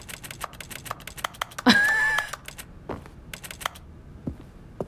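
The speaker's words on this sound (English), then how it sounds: "Everything I click on has a keyboard sound." Keyboard typing effect triggered by clicking objects in a video game, quick scattered key clicks in irregular bursts, with a brief louder electronic tone in the middle.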